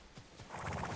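A horse whinnies in Ghost of Tsushima, a short, bright neigh swelling up over about a second, close and fairly loud with no talk over it.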